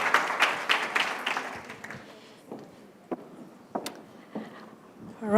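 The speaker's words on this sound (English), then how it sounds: "A round of applause for the ladies from Blue Label Telecoms." Conference audience clapping for speakers from Blue Label Telecoms, strongest at first then thinning into scattered claps and a few sharp taps as it fades.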